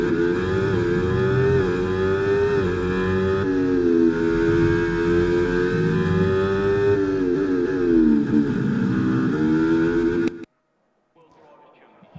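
A Williams FW46 Formula 1 car from F1 2024 circuits the Australian Grand Prix track in practice, its engine holding a steady high whine that rises and dips through gear changes before cutting off abruptly near the end, with a voice talking over it.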